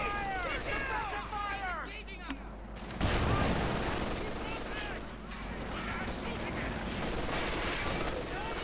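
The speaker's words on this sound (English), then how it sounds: "We're using incendiary rounds here from the MD42 on the rear of the Sherman." Sustained machine-gun fire from an MG42 on the rear of a Sherman in Company of Heroes 2, shooting incendiary rounds as a dense, continuous rattle over battle noise, with a voice talking above it.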